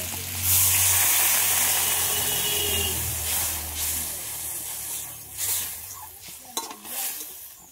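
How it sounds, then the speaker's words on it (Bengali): Water splashes into a hot pan of lightly fried snakehead fish, setting off a loud, broad hiss that swells at the start and then settles into steady bubbling and sizzling, with a few clinks of utensils toward the end. "এবারে আমি জল দিয়ে দিচ্ছি"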